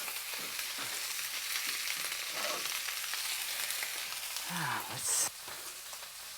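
Lamb chops (scottadita di agnello) sear in a hot pan with a steady, close hiss and crackle, and a voice speaks briefly over the sizzle.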